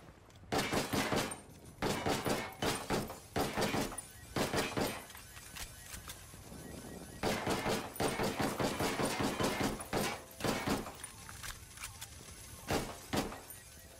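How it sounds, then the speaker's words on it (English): Repeated bursts of gunfire echo through a firefight in Ghost Recon Wildlands, sharp volleys and crackling rounds spread across the whole stretch with short lulls between, loud and close with no talking. "Opening fire on these fuckers."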